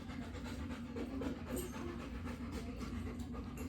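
Fast, steady panting breaths from a dog, close and soft, repeating in a quick rhythm with no talking.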